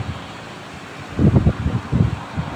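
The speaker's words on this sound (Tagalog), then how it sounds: "Malakas ang hangin." Strong wind gusts buffeting the microphone in a couple of loud, rumbling bursts over a quieter breezy background.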